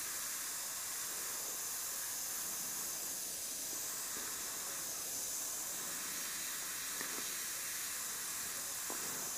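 A steady, soft hiss of an airbrush spraying paint runs continuously without a break, close and even, in light passes with no voices.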